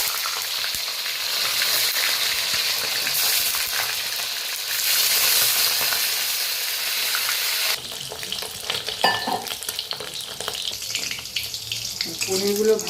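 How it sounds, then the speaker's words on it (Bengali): Paneer pieces fry in hot oil with a loud, continuous sizzle, shifting partway into a busier crackle with scattered pops and stirring noises. "তেল দেব, এবার পনিরগুলো ভাজি।"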